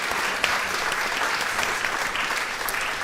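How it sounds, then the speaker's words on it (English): Applause for 14-year-old Arden Johnson of Charleston School of the Arts at a literary festival, dense continuous clapping from a seated audience, loud and close throughout with no voices over it. "Let's get a round of applause for Arden."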